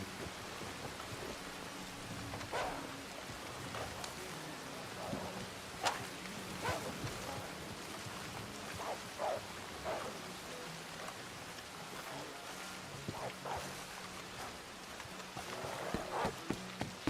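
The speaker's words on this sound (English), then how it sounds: "It is raining." Steady rain falls throughout a video game scene in a town, a continuous hiss with scattered drop patters and faint low rumbles, with no talk over it.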